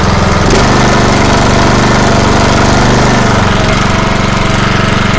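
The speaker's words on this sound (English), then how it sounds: "go ahead and fire up the engine, run up the throttle." Engine of a PRD pole/reel/dump trailer hydraulic power unit running loud and steady, a constant throbbing drone with a small throttle change near the start, heard alone.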